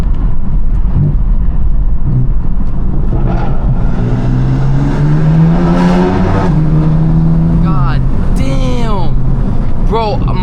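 A BMW M4 accelerating hard inside a tunnel, its exhaust roaring loud and close, with rising revs and sweeping tones, then crackling pops near the end, as voices speak over it.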